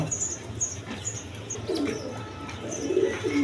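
High-flying Giribaz pigeons at a farm coo in low throaty phrases that repeat across the scene, with wing flaps and faint chirps nearby and no speech.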